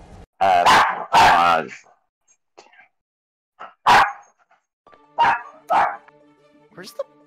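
A dog barks in several sharp, loud bursts nearby, with pauses between the yaps and faint background noise in the gaps.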